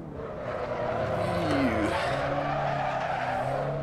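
An Alfa Romeo Giulietta, a standard street car with a full manual transmission, driven at the Nordschleife in the racing game Assetto Corsa, with a steady engine drone and a brief tire squeal partway through.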